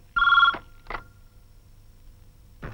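A telephone bell rings in short bursts: one loud ring, a brief second ring, a pause, and another ring starting at the end, all close and clear over quiet room tone.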